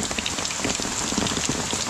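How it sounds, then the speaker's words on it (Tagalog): Heavy rain pours down steadily near a river, a loud, dense hiss of drops pattering on surfaces with no voices. "So yan guys, sobrang lakas ng ulan. Inabot na kami ng ulan."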